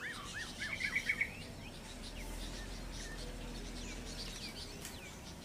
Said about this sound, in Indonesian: Ini benar-benar suara burung itu di sini sudah sangat ramai